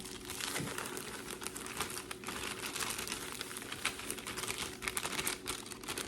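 Continuous crinkling and rustling of a plastic bag of cake mix, with small crisp snips as scissors cut it open, close by and fairly quiet.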